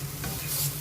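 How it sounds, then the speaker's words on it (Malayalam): Banana flower stir-fry with grated coconut being stirred in a pan, a brief soft scrape of a spoon over a faint sizzle, quiet and without voices. "നന്നായിട്ട് ഇളക്കി കൊടുക്കാം"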